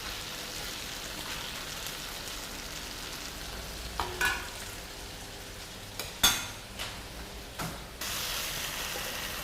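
An Asian stir-fry sizzles steadily in a hot pan, with several sharp scrapes and clatters as the ingredients are tossed and mixed, loud and close with no talking.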